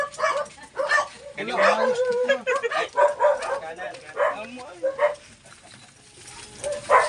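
A dog barks and whimpers in short bursts at an outdoor site visit, with people talking over and between the yelps.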